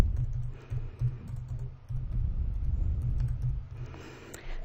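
A library card number is typed on a computer keyboard as a quick, close run of key clicks, with brief pauses and a final flurry of keystrokes.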